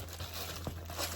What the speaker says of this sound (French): hop, un petit papier bulle au fond.